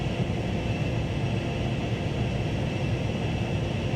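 An AV-8B Harrier II+ jet in simulated flight in FSX, running below full power, gives a steady, dense roaring drone that stays even and unbroken throughout, with no other sounds.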